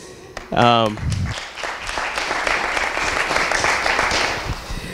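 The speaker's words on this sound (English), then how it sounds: "So yeah, round of applause for those guys." A round of applause at a tech awards event in Orlando: a brief spoken phrase at the start gives way to sustained crowd clapping, loud and fairly even, that fades slightly toward the end.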